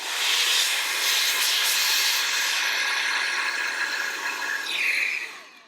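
An Opolar cordless electric air duster blows a loud, steady rushing hiss for several seconds, rising in pitch near the end before cutting off.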